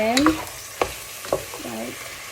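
Onions frying in a pan for chicken tinola are stirred, giving a soft continuous sizzle broken by three or four sharp scraping strokes of the utensil against the pan.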